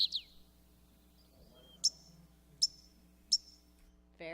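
White-crowned sparrow singing in summer gardens on a farm, with three short bright chirps spaced evenly apart and clear over a quiet background, preceded by a brief opening call.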